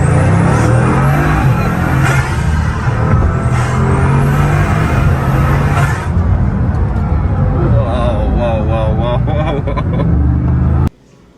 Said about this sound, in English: that is just an amazing piece of machine with the W16 engine